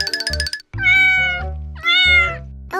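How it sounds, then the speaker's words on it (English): A cat meows loudly and close, three drawn-out, rising cries in quick succession with no one talking. "Oh, good cat."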